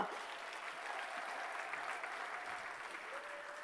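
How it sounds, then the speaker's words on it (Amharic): A large audience at a foundation's 25th anniversary gathering gives warm applause, a dense, even wash of clapping that carries steadily throughout at moderate volume. "አንድ ጊዜ ለእናንተ ሞቅ ያለ ጭብጨባ"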